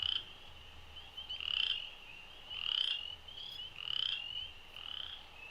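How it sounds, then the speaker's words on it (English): Early spring frogs call in a chorus alongside spring peepers and wood frogs, giving faint, repeated pulsing trills that rise and fall about every second or so with no voices. "They can be heard with spring peepers and they can be heard with wood frogs."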